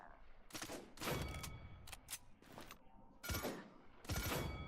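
Burst-fire weapon shots in the online hero shooter Paladins, several short sharp volleys of rapid gunfire separated by brief pauses, close and crisp.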